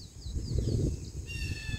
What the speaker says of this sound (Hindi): पंछियों की आवाज जो आ रही है बहुत ही सुकून देने वाली आवाज है।